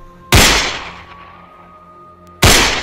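Two sharp, loud gunshots ring out about two seconds apart, each a sudden blast with a long decaying tail, over a faint steady tonal background.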